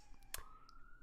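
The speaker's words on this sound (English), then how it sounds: "apologies for the sirens happening now" Police sirens wailing somewhere out in a neighbourhood, a faint, distant rising tone sweeping upward under a quiet room with a sharp click partway through.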